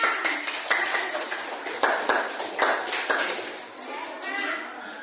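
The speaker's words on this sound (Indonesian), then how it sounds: "Tepuk tangan" Students in a classroom clap for a group presentation, a loose round of sharp, uneven hand claps close by that thins toward the end, with voices murmuring underneath.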